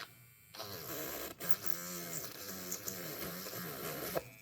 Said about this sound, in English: we're gonna go in the holes, make sure it's all drilled out so that we have no issues